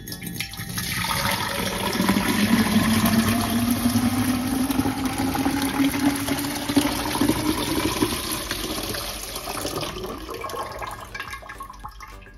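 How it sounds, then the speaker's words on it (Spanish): Water poured into a tube for a light refraction demonstration, a steady close gurgling fill with a slowly rising pitch as the tube fills, lasting about ten seconds before stopping. "Vamos a llenar nuestro tubo de agua."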